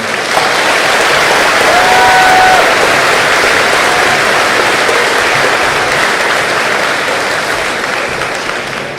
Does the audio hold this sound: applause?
yes